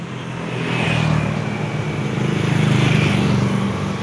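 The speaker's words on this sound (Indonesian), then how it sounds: "ini di pinggir jalan, coy, rame banget, agak berisik" Busy roadside traffic in Indonesia rumbles loudly and continuously, cars and motorbikes passing close by in a dense, steady wash of engine noise.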